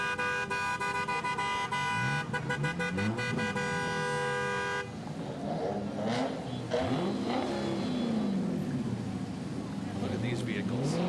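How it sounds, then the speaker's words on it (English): Antique, vintage and classic cars of a car club roll slowly through an Independence Day parade in Pittsfield, engines revving at close range, with a horn tooting early on and crowd voices underneath. "You can hear the rev of the engines."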